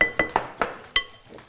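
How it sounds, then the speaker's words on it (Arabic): Lid of a tagine of pasta and minced meat is set in place with a quick series of five or six sharp ceramic clinks and taps, close and fairly loud, fading at the end. "بسم الله نقفل الطاجن اهو يا سيدي"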